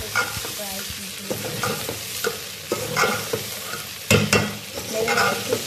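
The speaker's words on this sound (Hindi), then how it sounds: "अपना मीडियम फ्लेम पर फ्राई करना है, क्योंकि उसका मसाला बहुत जल्दी लग जाता है" Bhindi masala frying in a pan over a medium flame, a steady sizzle broken by repeated scraping and stirring strokes of a spoon against the pan, close and fairly loud with no talking.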